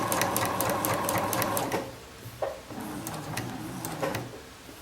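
A sewing machine stitches a shirt with a steady, fast mechanical whir for about two seconds, then stops, leaving a few light clicks and handling sounds.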